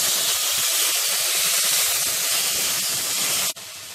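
Tomato pieces fry loudly in a pan for a methi egg curry, giving a steady, close, broadband hiss that runs evenly for a few seconds before briefly dipping near the end.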